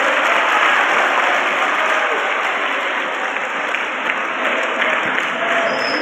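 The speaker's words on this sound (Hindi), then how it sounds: "एक बार जोरदार ताली बजा सकते हैं।" Dense, steady audience applause fills a hall at a college career counselling event, sustained and even throughout with no voices standing out.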